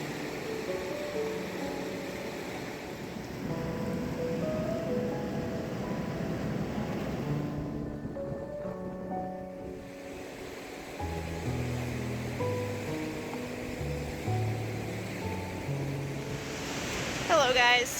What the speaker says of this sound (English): Just us, the sound of waves, and the wind through the palms.